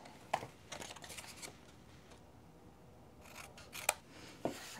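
Scissors snipping paper tabs and angled corners for a card-stock treat box, a few crisp close cuts in short bursts with quiet pauses between them.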